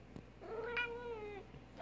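A pet cat gives a single drawn-out meow, close and fairly soft, rising and then falling in pitch, with no talking over it.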